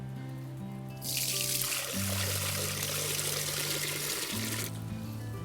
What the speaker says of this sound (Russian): В эту чашу, как я вам говорил, налью воды.